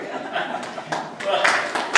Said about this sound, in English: I better get the claps now before I get done